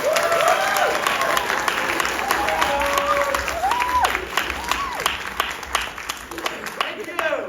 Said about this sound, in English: Please give a round of applause to the magnificent Magnifico and Magnifica, King and Queen of Edinburgh